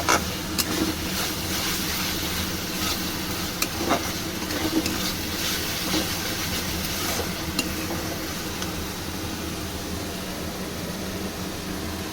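Spice paste for chicken rezala frying in oil, a steady close sizzle running the whole time with occasional scrapes and clinks of a stirring spoon against the pan.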